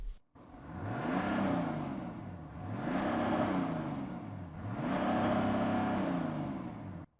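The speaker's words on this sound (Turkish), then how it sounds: "Rory senin dizelini dinleyelim." A diesel car engine is revved three times, each a slow swelling roar that eases back down, steady and fairly close with no talking.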